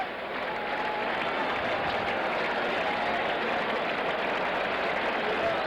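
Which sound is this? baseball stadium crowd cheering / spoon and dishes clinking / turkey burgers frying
baseball stadium crowd cheering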